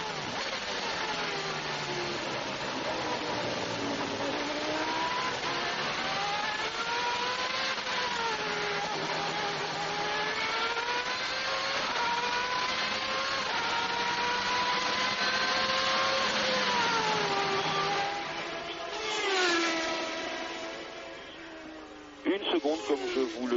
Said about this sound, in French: entre les 4 voitures de tête, Berger à 1 seconde de Senna, Prost à 1 seconde de Berger et Boutsen à 1 demi-seconde de Prost